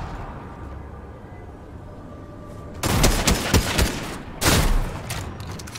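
Shotgun fire in a Fortnite match, a few loud, sharp blasts bunched together in quick succession after a quiet stretch, with a second burst of shots a moment later.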